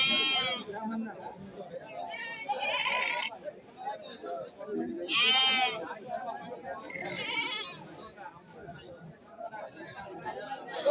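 Goats bleat repeatedly amid a busy Wednesday livestock haat in a char area, several loud calls rising over a constant babble of people talking and bargaining nearby.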